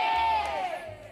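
A game show crowd shouts out their pick together, a loud, sustained mass of voices that trails off slightly toward the end.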